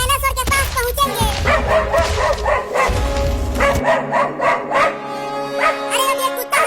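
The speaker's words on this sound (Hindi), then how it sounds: "अरे अब ये कुत्ता हाथी के ऊपर क्यों भौंकने लगा?" A cartoon dog barks and yips at an elephant in a quick run of sharp, loud barks near the start, followed by a whimpering, voice-like tail and animated speech.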